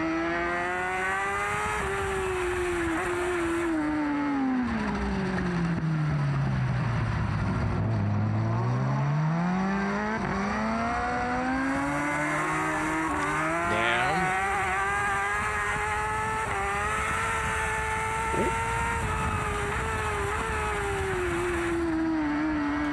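High-revving racing motorcycle engine at the Macau street race, heard from onboard, with a loud sustained whine that drops sharply on braking then climbs again through repeated gear changes.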